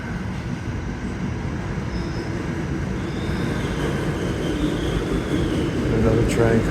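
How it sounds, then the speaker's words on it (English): An R46 New York City subway train, aging equipment in decent shape, pulls into the station with a steady low rumble that swells louder toward the end, ending in a bright squeal of wheels or brakes. "Another train coming in. Same type of equipment, R46 cars, 50-year-old equipment."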